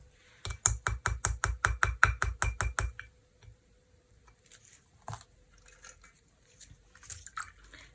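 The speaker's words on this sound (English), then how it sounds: "A teaspoon of dishwashing liquid." A teaspoon of dishwashing liquid is poured into ink. It makes a quick, even run of about a dozen close glugging drips, then stops, leaving faint scattered clicks and small handling sounds.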